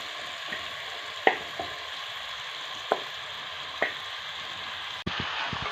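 Chicken pieces sizzling as they fry in masala in a pan for a chicken chatti kurma, a steady close crackle with a few sharp utensil taps and stirring clinks, no voices.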